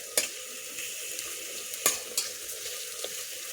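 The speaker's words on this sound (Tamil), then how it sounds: "வெங்காயம் நல்லா எண்ணெயிலே வெந்துடணும்" Onions fry in oil with a steady, moderate hiss, broken by a few sharp clinks of a utensil against the pan, with no voices.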